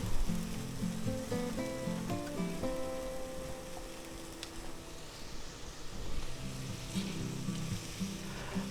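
Ham, egg and cheese toast frying in a hot pan, a steady close sizzle and crackle with light clinks and scrapes of utensils near the start, no voices.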